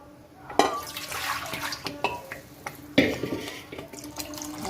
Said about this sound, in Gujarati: હવે આપણે રસો કરવા માટે પાણી નાખીશું